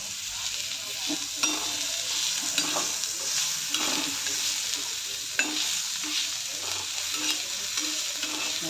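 Onion frying and being stirred in an iron tava while making Maharashtrian pitla, a steady close sizzle with scraping spatula strokes and occasional clinks, no talk.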